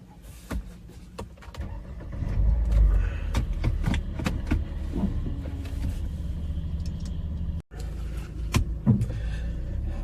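A car drives steadily toward a campus in Sichuan, China, with a low engine rumble and road noise throughout, one brief cutout near the end, and a few small clicks inside the cabin.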